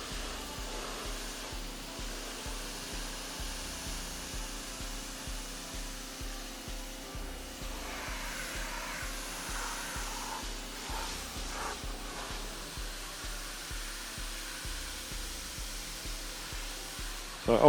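A pressure washer blasts grime from the plastic lip where it joins the bumper of a dirty Ford Fiesta, a steady loud rushing hiss of water spray with a low motor drone beneath, running continuously without talk.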